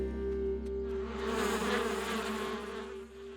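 Cartoon bees swarm around a hive in a steady, dense buzz that swells slightly mid-way, heard close and alone with a low hum beneath.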